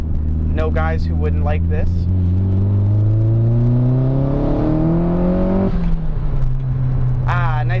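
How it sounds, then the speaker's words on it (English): SR240 car accelerating hard in second gear, the engine note climbing steadily in pitch as it pulls, loud and close, then easing off near the end; someone speaks briefly at the start and end. "Nice second gear pull to end the video."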